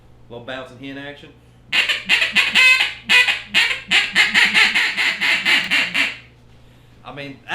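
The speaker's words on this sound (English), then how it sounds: "Little bouncing hen action." A 1909 Olt duck call blown in a quick, bouncing hen sequence: a brief opening of chatter, then a long string of loud, rhythmic nasal quacks close up, ending with a short voice.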